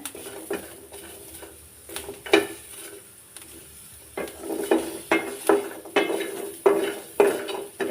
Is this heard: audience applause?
no